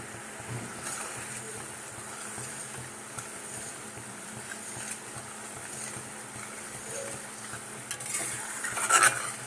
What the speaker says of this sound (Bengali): চিনি রসটা ফুটছে